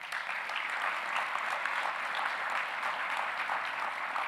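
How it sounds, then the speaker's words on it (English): Graduates of a doctor of physical therapy program applaud during their convocation ceremony at South College, a dense, even round of clapping from a crowd that holds steady throughout. "So give yourselves a round of applause for that."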